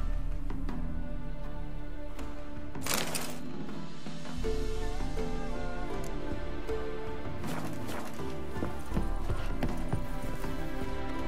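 Horses' hooves clip-clop steadily in The Witcher 3 video game, with a couple of sharp louder neighs or snorts standing out. A faint voice sits under the hooves.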